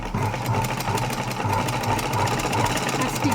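A sewing machine runs steadily while stitching gathers into fabric, its fast even needle rattle and motor hum holding at a close, constant level throughout.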